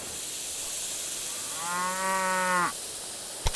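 A single long cow moo from a cattle operation in the rail-building game Railway Empire 2, rising steady for about a second and then dropping off, alone over a soft hissing background.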